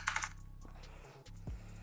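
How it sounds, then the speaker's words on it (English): Loud computer keyboard typing opens with a quick flurry of clicks, then sparse keystrokes follow over a low steady hum. "Noobs Typing brought to you by Very Loud Keyboards"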